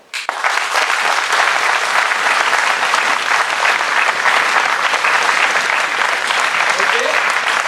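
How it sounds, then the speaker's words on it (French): An improv festival audience in a French theatre bursts into loud, sustained applause that starts abruptly and holds steady and dense throughout, with no talk over it. "Alors vous allez les applaudir très très fort."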